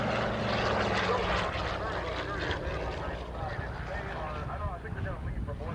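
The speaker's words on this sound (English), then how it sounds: "Here comes the Piedmont Airlines DC-3." A Piedmont Airlines DC-3 propeller airliner makes a pass at an air show, its engine drone loud and steady throughout, with a commentator talking over it.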